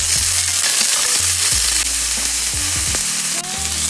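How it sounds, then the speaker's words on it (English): Food sears in shimmering avocado oil in a hot skillet, a loud, steady close-up sizzle and crackle with a low hum underneath and no voices. "Heat until the oil shimmers. Now it's stick-free. Sear 1 to 2 minutes."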